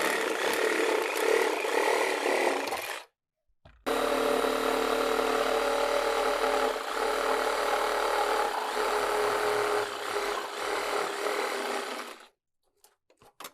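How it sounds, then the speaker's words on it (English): A power saw cuts through the wooden 2x4 boards of the skid under an ABI manure spreader, in two long, loud, steady whining runs separated by a brief pause, close and without talk. "I'm going to cut the 2-bys, the center, each side, and then remove the front section of the skid"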